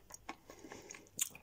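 Dry edible chalk being bitten and crunched, a few short, dull crisp crunches spaced across a moment, close and fairly quiet with no talking.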